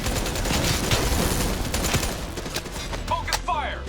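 A loud, sustained barrage of automatic gunfire in the Call of Duty: Black Ops 3 video game, with rapid overlapping shots and a few sharp whistling tones near the end.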